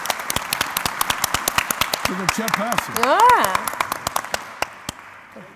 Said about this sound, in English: Applause for my three speakers.